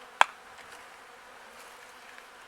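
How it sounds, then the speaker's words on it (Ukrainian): Honeybees are shaken off a hive frame: one sharp knock, then a soft, continuous buzzing of disturbed bees close by. "Так, бджолок струсуємо."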